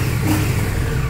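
A two-cylinder motorcycle engine tuned to fire like a four-cylinder revs briefly, a loud, close, rough growl with a steady pulsing beat.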